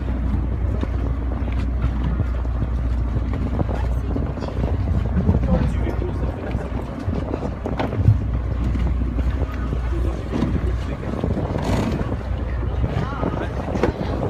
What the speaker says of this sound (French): c'est le bateau de Bio UV là qui est en train de passer en troisième position